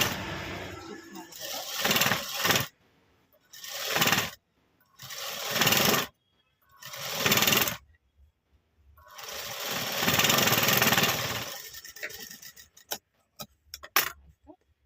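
Sewing machine stitching puff sleeves on a readymade lehenga blouse runs in several short bursts of whirring separated by pauses, then one longer run, close and moderately loud, ending with a few clicks.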